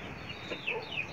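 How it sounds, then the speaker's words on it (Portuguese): Soft, faint clucking from chickens on a rooftop slab after rain, with a couple of short, higher calls near the end over a steady background hiss. "Vamos lá olhar as galinhas."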